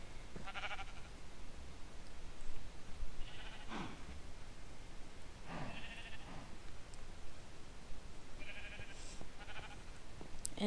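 Short sheep bleats in a video game come at scattered intervals over steady low background hiss, several separate calls, moderately close.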